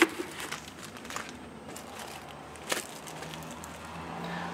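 Soft crinkling of plastic being handled close by, intermittent rustles with one sharper crackle, fairly quiet.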